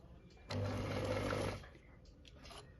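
A sewing machine running a straight stitch, a single close motor whir of about a second, then a fainter mechanical rustle.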